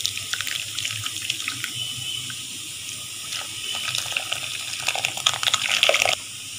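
Clean water runs steadily from a tap over fresh homemade paneer held in a cloth strainer, a continuous close splashing gush with brief bursts of louder spatter near the end, and no voices.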